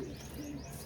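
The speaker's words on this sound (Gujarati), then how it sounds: "કબૂતરાને ઘર બની ગયેલી છે ને" Pigeons coo softly close by, making a low, steady murmur with a few higher chirps laid over it.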